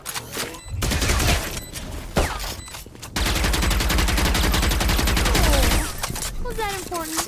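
Gunfire in the Valorant video game comes in rapid bursts and sustained automatic volleys, loud and close, broken by short pauses, with players talking over it.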